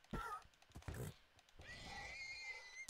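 A Minecraft mule or donkey neighs and whinnies in short bursts, with a clip-clop of hooves and a brief voice in between, near and fairly clear.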